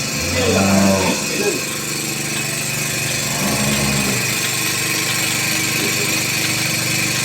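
A milking machine works on a dairy cow on a farm in Sylhet, with a constant mechanical drone and low pulsing hum, plus a few louder bursts near the start.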